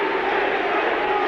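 A huge rugby league crowd at a 1988 New Zealand versus Great Britain test roars in a dense, steady wash of voices, loud and continuous throughout without a break.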